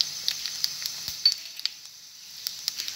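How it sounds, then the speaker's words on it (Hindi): Half a teaspoon of fennel seeds crackles in hot oil over grated ginger for a homemade snack, a steady close sizzle punctuated by sharp little pops and clinks of a spoon. "अब इसमें हम डालेंगे सौंफ 1/2 चम्मच।"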